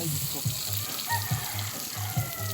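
Hotdogs frying in a pan, a steady hiss of sizzling oil with a low rhythmic hum pulsing underneath and faint clinks, close and continuous.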